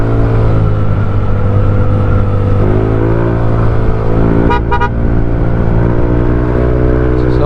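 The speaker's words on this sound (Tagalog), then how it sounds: "sobrang lakas ng ano niya mga bossing, yung mga busina niya." A loud car horn honks in a few quick bursts over a steady idling engine hum.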